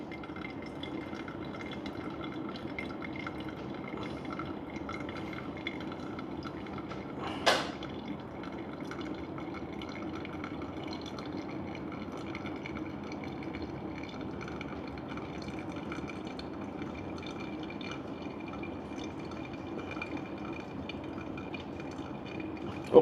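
Water streams in a thin, quiet pour over filter coffee grounds from a Gemilai 3007Z setup, a soft continuous trickle with one brief clink partway through, otherwise calm and close.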